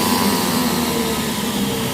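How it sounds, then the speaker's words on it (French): A Monsieur Cuisine Smart food processor runs on its turbo function, giving a steady, loud motor whir that holds evenly for the full two seconds with no voices over it. "Appuyez longuement sur le bouton rotatif pour démarrer la fonction turbo."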